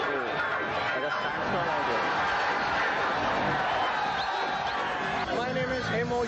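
A large crowd fills the grounds at an outdoor concert during a sandstorm, a dense, steady wash of chatter and hubbub with someone talking over it close up.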